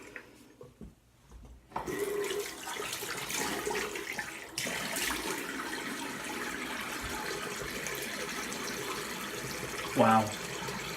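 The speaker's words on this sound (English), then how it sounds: "Let me rinse up real quick." Water running from a tap as a straight razor is rinsed, a steady close splashing flow after a quiet start, with a brief louder clatter near the end.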